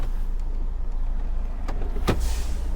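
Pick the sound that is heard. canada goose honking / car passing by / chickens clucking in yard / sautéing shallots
car passing by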